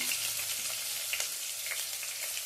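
Fennel seeds, dried chillies and small shallots fry in hot oil, giving a steady close sizzle with faint crackles throughout and no voices.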